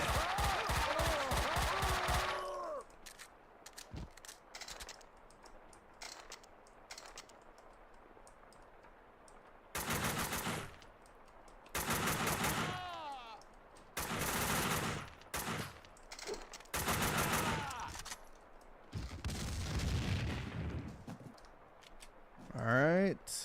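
Machine gun fire from the video game Max Payne comes as a loud rapid burst at the start, followed by scattered gunshots and bursts that alternate with talking voices.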